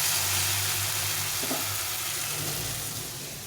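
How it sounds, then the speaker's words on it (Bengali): Spice paste goes into fried onion and tomato in a pan, with a steady, close frying sizzle that slowly eases toward the end and no speech. "এখন আমি মশলাটা দিয়ে দেবো"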